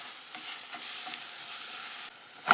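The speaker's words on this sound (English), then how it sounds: "We can use our spatula to break up the bigger pieces and mix them all through." A spatula stirs and breaks up shrimp-and-grits ingredients frying in a pan, a steady close sizzle with soft scraping, ending in a louder clatter.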